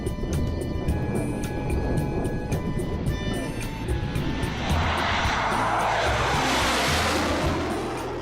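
Russian Air Force Sukhoi military jet flying, a loud, continuous engine roar that swells into a broad rushing noise partway through.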